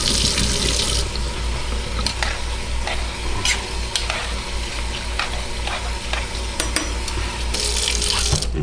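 Hot water runs from a tap over rye berries being rinsed, a continuous splashing rush broken by clinks and swishes as the grains are stirred, close and fairly loud with no talking.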